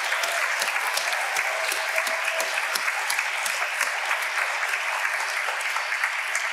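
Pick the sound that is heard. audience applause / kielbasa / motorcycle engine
audience applause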